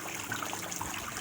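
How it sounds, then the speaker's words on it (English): Water trickling over rocks in a front yard water feature built like a small spring-fed brook, a soft steady babble close by with no voices. "a little babbling brook type thing was what I was going for"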